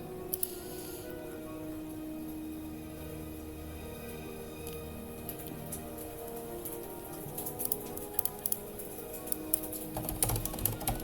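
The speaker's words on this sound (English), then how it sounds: "it's a lot of rain. I have to close the window." Heavy rain comes through an open window as a steady patter and hiss that builds into a denser drumming of drops near the end, with no talk over it.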